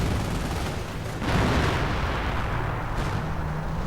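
Rumbling artillery bombardment in a World War II real-time strategy game, with a Pershing and M10 under shelling; dense booming barrage, heaviest from a strong burst near the middle, continuous and loud with no talking.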